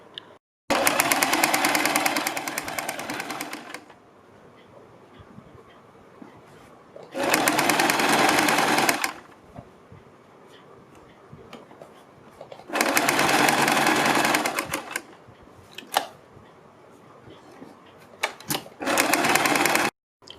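A sewing machine stitches a seam along the folded neck edge of a kurti, running in four loud, separate bursts of about three seconds each, with quiet pauses between them and no speech.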